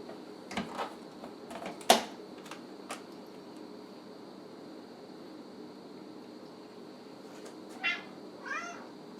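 An 11-year-old female house cat meows a couple of times near the end, fairly faint, after a few scattered clatters and knocks against a quiet hum.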